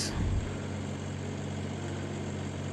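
A tractor engine idles steadily during sugar cane planting on a farm in Uttar Pradesh, India, a low, even rumble with a brief louder burst at the start, running alone without talk.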